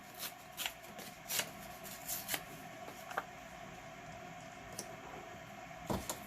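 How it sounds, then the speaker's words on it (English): Paper being torn by hand for a junk journal pocket, a series of short rasping rips and crinkles in quick irregular bursts, close and fairly quiet, with no talking. "So I'm going to go ahead and tear it now."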